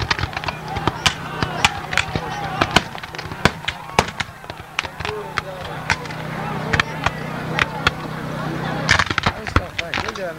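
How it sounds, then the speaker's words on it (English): Artillery fire at a 1998 Gettysburg reenactment comes as a series of sharp bangs and cracks spread irregularly across the stretch, some loud and near, with a denser burst near the end and people talking in the background. "getting this artillery going."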